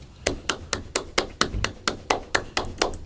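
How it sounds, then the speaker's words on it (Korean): One person claps alone in a quiet indoor space, about a dozen crisp, evenly spaced claps, close and unaccompanied. "저 혼자 치는 박수."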